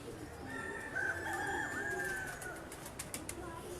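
Birds in a rooftop pigeon breeding aviary with a cage system in Lahore give a soft, drawn-out cooing call midway, with faint chirps and background murmur around it at moderate distance.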